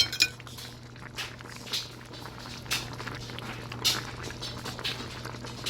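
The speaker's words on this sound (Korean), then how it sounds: "맛있게 끓고 있습니다" Budae jjigae simmers in a pot with a soft, continuous bubbling and occasional faint clinks of utensils against the pot, quiet and close with no talking.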